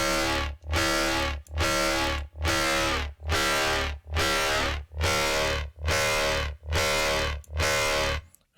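A heavy dubstep bass from the Vital synth with a drive macro applied: nine long, growling distorted notes in an even pulse, each cut off by a short gap, loud and dense with no voices.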